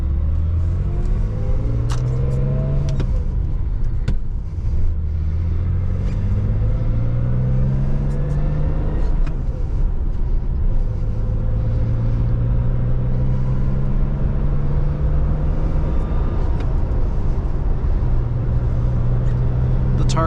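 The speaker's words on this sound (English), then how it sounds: "I'm hoping to take you guys for a nice ride in this very cool air-cooled Porsche." Air-cooled engine of a 1982 Porsche 911SC Targa while driving, a steady loud rumble with rising tones as it accelerates through the gears, continuous and close from inside the car.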